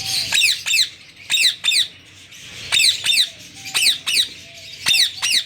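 A pet parakeet gives loud, close, harsh squawks in quick pairs and short bursts, repeating about a dozen times over several seconds with brief pauses between.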